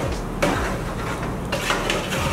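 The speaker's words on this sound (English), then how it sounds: "I'm just mixing that into the tomato sauce" Rice being stirred into tomato sauce in a pot for smoky jollof rice, with a couple of sharp scrapes and knocks of a utensil against the pot over a low, steady cooking background, no talking.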